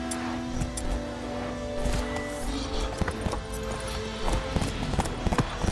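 Geralt's horse Roach galloping in The Witcher 3 video game, steady rhythmic clip-clop hoofbeats close by, with game music and ambience underneath.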